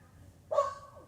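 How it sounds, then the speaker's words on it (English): A small dog barks once from some distance down a cliff, a single high, slightly strained yelp over quiet background. "There's a little dog down the cliff."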